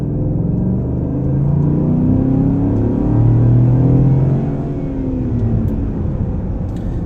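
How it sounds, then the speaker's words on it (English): A 2016 Cadillac Escalade V8 SUV accelerates from the cabin, its deep engine rumble rising in pitch as revs build, then easing off, loud and steady without talk. "We're going to go ahead and give it a little acceleration."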